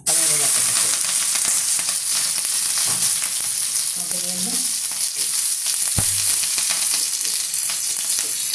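Curry leaves and finely chopped green chillies sizzle loudly and steadily in hot oil in a pan for a Kerala naranga curry, with a constant close hiss and occasional stirring scrapes.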